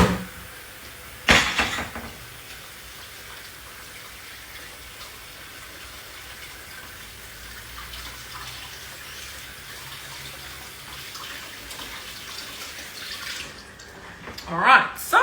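Tap water runs steadily at low level for a hand wash in a home kitchen. Brief louder splashes come near the start and the end, and a person speaks over it.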